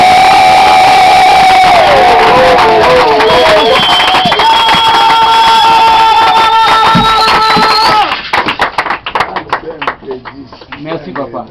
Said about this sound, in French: J'aimerais que vous acclamiez 3 fois Jésus-Christ.